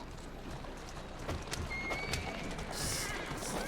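A horse gallops with rhythmic clip-clop hoofbeats and a whinny in the video game Assassin's Creed Syndicate, mixed with game ambience at moderate level.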